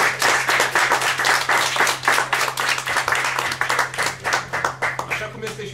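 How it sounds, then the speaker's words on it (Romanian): Audience at an improvised speech event in Brașov claps in a lively round of applause, close, loud and rhythmic individual claps blending with crowd noise and some voices throughout. "Cred că toți suntem câștigători și pentru asta merităm toți aplauze."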